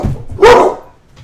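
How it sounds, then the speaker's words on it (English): A dog gives one sharp, loud bark close by indoors, a single short burst with a brief low growl around it. "Pardon the dogs, because they get..."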